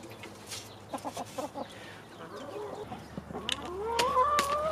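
Homestead chickens clucking and squawking close by, a rapid series of short clucks followed by rising, louder calls toward the end, no talk.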